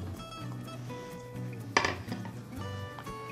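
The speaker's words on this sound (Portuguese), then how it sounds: "Em uma panela de pressão com fogo médio, a gente vai colocar a nossa calabresa," Metal clinks and scrapes of a spoon and cookware ring out as calabresa sausage, bacon and onion go into a pressure cooker over medium heat, with one sharper clatter midway.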